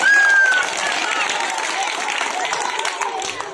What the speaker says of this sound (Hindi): जोरदार तालियों से स्वागत किया जा